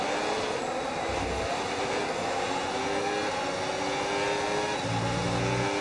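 A Formula 1 car engine in the F1 26 racing video game, a continuous loud drone with layered high whine and shifting pitch held steadily at speed, with no voices over it.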